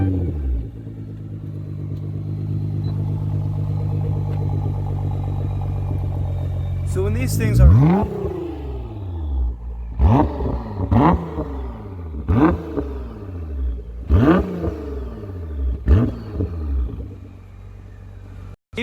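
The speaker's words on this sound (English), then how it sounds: "you can hear the amazing exhaust note this thing does have." A 600 hp Nissan GT-R R35 Alpha idles with a deep, steady rumble, then is revved repeatedly in sharp bursts that spike and fall back, with a voice talking near the start.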